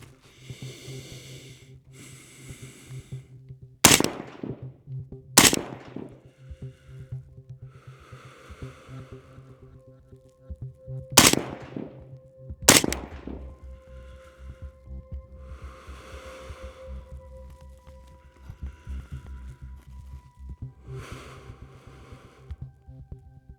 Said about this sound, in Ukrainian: Слідкуємо, щоб час між пострілами в контрольованій, кожній контрольованій парі не перевищував 2 секунд.